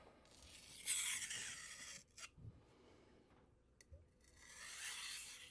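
A budget kitchen knife drawn across a sharpening stone to remove the burr, heard as quiet, close rasping strokes in a slow alternating rhythm with brief pauses between passes.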